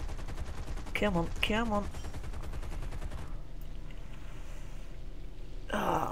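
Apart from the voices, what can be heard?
aircraft machine gun fire in War Thunder video game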